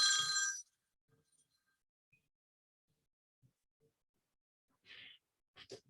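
Mobile phone ringing during a mathematics lecture, a short bright electronic ring burst at the start, followed by near silence with faint small noises and a later quieter chirp and rustles.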